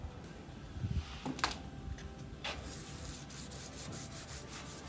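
Soft, light wet-sanding strokes by hand on a vehicle's frame and cab, quiet and close, with a faint background hum and a few small ticks.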